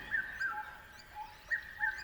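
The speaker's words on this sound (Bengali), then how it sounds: "বনে প্রবেশের সাথে সাথেই নানা ধরনের বন্য প্রাণী পাখি এবং কীটপতঙ্গের শব্দ শোনা যায়" Faint birds calling in a hill forest in Lawachara National Park, several short repeated chirps at a distance over a quiet background hum.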